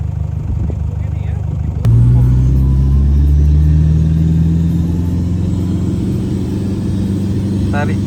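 A car engine rumbles steadily while the vehicle is being towed on a fishing trip to Steep Point, Western Australia, a low drone that rises in loudness after a thump near two seconds and holds close and constant to the end.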